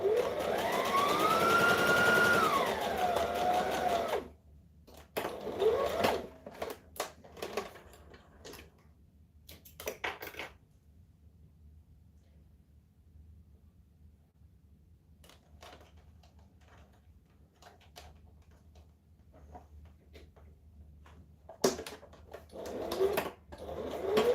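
An overlocker sewing machine runs a rolled hem along fabric for a blouse, a close steady whir for about four seconds, followed by scattered handling clicks and quiet gaps.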